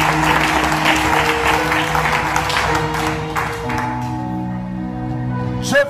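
Applause and clapping from a church congregation acclaiming Jesus at a prophetic service in Chad, steady hand claps over sustained organ-like tones that thin out toward the end, with a brief voice at the close.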